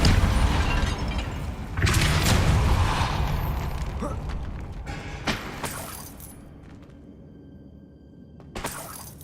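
Depulso spell cast in a video game, a loud shattering burst and boom with mechanical rattles that trails off into quieter reverberation, then a final short burst near the end.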